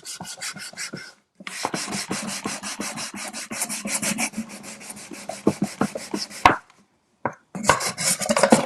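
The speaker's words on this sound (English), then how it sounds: "now we're just doing a little scuff sand on all of it" Close, quick rhythmic strokes of hand scuff sanding rub across a wooden wine box, pausing briefly twice before resuming, with no voices over it.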